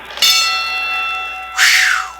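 A boxing bell rings twice in a 1954 children's record-reader, each strike loud and close with a long metallic ringing decay, separated by about a second and a half.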